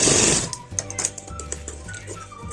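After a brief burst of noise, a sewing machine stitches a ladies shirt in a short run of quick, even mechanical clatter, close and alone.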